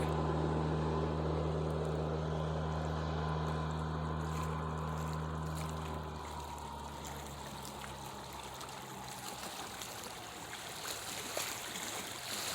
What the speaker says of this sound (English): These boats rolling in about this time